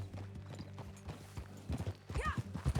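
Horse hooves clip-clopping in a steady gallop while riding in Red Dead Redemption 2, with a game soundtrack beneath and a brief whinny-like sweep near the end.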